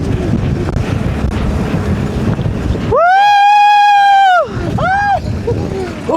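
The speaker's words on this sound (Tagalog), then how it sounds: "Malakas yung hangin!" Strong wind at Paoay, Ilocos Norte roars and buffets the microphone in a low, rumbling rush, then a loud, sustained high-pitched shout and more voices cut through.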